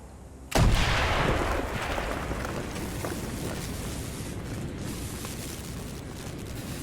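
A loud explosion blasts a hole through a building wall in Call of Duty Black Ops, erupting with a sharp onset and then a long, rumbling roar of debris and fire that stays heavy through the end.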